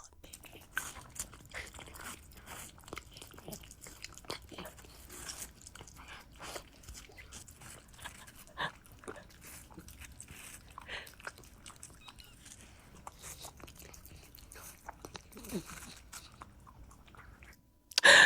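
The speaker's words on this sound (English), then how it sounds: "we can just enjoy this little ASMR watermelon chewing" Two Italian Greyhounds chew watermelon up close, making a steady run of soft wet bites and crunches over quiet surroundings, with a faint voice near the end.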